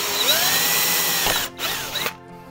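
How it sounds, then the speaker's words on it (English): A power drill whirs up in pitch as it drills pilot holes for a heated window on a classic Mini Cooper, pauses briefly, then spins up again before cutting off, close and fairly loud. "we'll just start by drilling 2 pilot holes"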